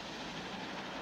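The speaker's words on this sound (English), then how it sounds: "The chugga-chugga of the train wheels" A train rolls along rails with a steady, dense rumble and wash of noise, continuous and fairly close, with no talking.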